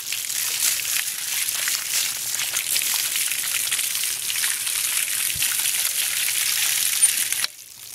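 Water from a garden hose sprays steadily onto horse sport boots to soak them. It makes a constant close hiss and splatter that runs about seven seconds and then abruptly stops.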